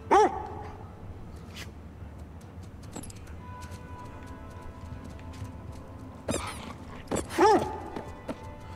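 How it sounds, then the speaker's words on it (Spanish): A dog in The Last of Us Part II barks and yips in short bursts, with whimpering whines between them, set against a quiet game ambience and occasional soft voices in the background. "¡Ay, qué graciosa la perra!"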